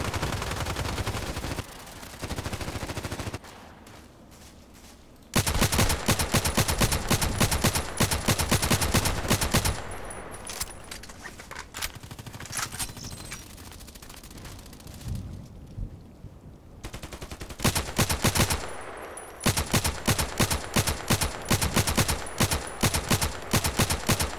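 Gunfire in a sniper video game comes as loud, sharp blasts in dense stretches, alternating with quieter, rain-like ambient noise.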